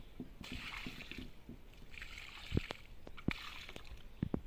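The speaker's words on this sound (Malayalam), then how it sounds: "ഇനി നമുക്ക് കുറച്ച് വെള്ളം കൂടി ഒഴിച്ചു കൊടുക്കാം" Water poured onto a freshly planted Melastoma bed, a quiet sloshing trickle close by, broken by a few soft thuds and splashes.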